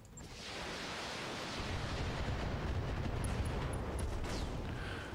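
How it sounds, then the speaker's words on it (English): Ammo explosions in the mech combat video game BattleTech: one sustained, roaring blast that rises quickly and rumbles on evenly for several seconds, broad and heavy, with faint high tones near the end. "Ammo explosions."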